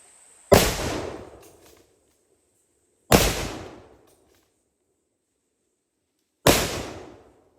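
Three loud, sharp reports from a Rigby big game rifle chambered in .416 Rigby, each blast followed by a rolling outdoor echo, spaced a few seconds apart with silence between.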